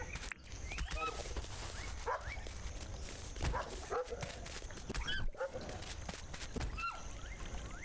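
Dogs fight in the video game Dinkum, giving repeated yips, barks and whimpering cries over a constant background bed, fairly quiet, with a voice speaking intermittently.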